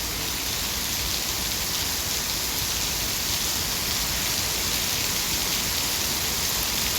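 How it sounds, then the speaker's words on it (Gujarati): Steady monsoon rain falls without a break, a dense, even hiss of drops hitting the ground and surfaces, loud and close throughout with no voices. "અને અત્યારે વરસાદ પડે છે"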